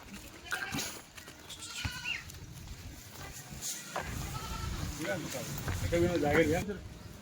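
Kathiyawadi goats on a farm bleating in a few short, wavering calls that grow clearer toward the end, over constant background noise and voices in the pen.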